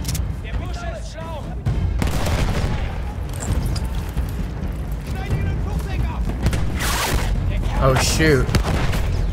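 Battlefield 1 combat with loud, continuous gunfire and heavy booming explosions close by, volleys layered over one another as a voice talks and exclaims over the battle.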